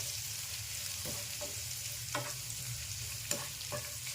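Onion with chana and urad dal sautéing in a pan for rava dosa, a steady soft frying hiss with a few light stirring scrapes scattered through, close up and alone.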